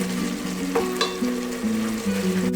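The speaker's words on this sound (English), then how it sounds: "We have to saute till the oil comes very nicely on it." Spices and masala sizzle steadily in hot oil for a mushroom biryani gravy, with a few soft clicks of stirring over the continuous frying hiss.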